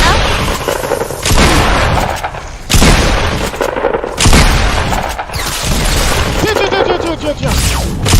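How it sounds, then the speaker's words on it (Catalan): Shotgun blasts fired at zombies in the Fortnite video game, a series of loud booming shots spread across the clip amid game noise, with a voice talking over them. "Els mataré amb l'escopeta."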